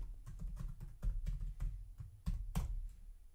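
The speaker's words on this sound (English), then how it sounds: "let me just type the password again" Someone typing a password on a computer keyboard, a run of about a dozen soft, close keystroke taps at an irregular pace, with no talking.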